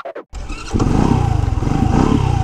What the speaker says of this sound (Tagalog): Yun, napakadali lang i-start ng motor na to.